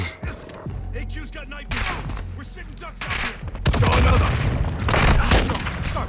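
Rapid gunfire and heavy explosions from the Modern Warfare 2 campaign on PS5 during a firefight, loud bursts and booms throughout, growing denser and louder in the second half with faint voices underneath.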